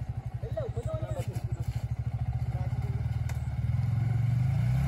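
A motorcycle engine idles with a steady low pulsing throb, then revs gently as it is pushed along, with people calling out over it throughout.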